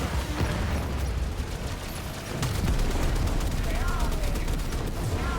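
Torpedo launches in the space combat of Warframe, a dense, loud barrage of rapid explosive bursts and booms running steadily through the whole stretch, with a swell in intensity partway in.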